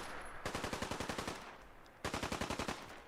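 A .50 cal machine gun in a video game rips off two sustained bursts, the first about a second long with rapid evenly spaced heavy shots, a brief pause, then a second similar burst; loud, close and with no talking.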